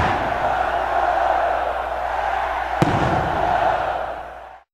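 Fans set off fireworks in a Brazilian football stadium during a tribute: a dense, continuous crowd roar with crackling bursts and one sharp bang near the middle, fading out at the end.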